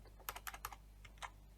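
Quick keystrokes on a computer keyboard, a short burst of about half a dozen light clicks heard close up and fairly quiet, with a brief pause before a final tap.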